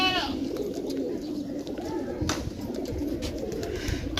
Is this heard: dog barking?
no